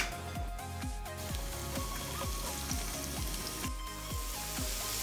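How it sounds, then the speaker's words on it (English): Onion stir-frying in hot oil in a pan, a dense continuous sizzle with soft crackles and spatter, close and steady throughout, with no talking. "Normally you'd want to stir fry it until the onion looks a bit pale and translucent"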